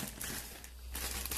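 Close, scratchy crinkling of a thin polyethylene bag holding a Stellox front brake disc, in bursts, handled and rustled near the microphone with no voices.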